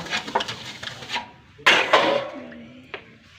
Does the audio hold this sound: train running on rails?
no